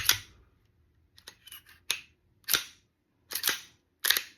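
Slide of a Dan Wesson DWX pistol being racked by hand, a series of sharp metallic clicks and clacks in quick separate bursts, close up and crisp against near silence.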